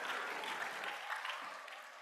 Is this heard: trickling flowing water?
no